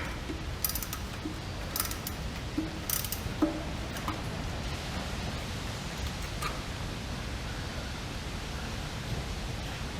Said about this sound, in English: See if we can get a socket wrench in there.